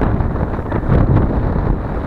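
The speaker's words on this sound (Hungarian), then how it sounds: "piszkosul fúj a szél gyerekek" Strong wind buffets the microphone in a steady low roar with gusty swells, loud and close, with no voices, on a walk between Aszófő and Balatonfüred by Lake Balaton.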